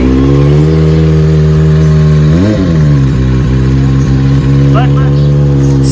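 A Kawasaki ZX-25R inline four-cylinder 250cc engine with a new header pipe and a JP Racing titanium slip-on exhaust idles loudly and steadily, then gives one quick sharp rev and settles back to idle; a voice speaks over it.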